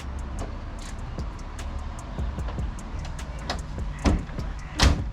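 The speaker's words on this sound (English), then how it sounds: "let's close up the hood" A 1980s BMW E30 325iX hood shuts with two solid thumps near the end, the second the heavier, over a low steady background with no talking.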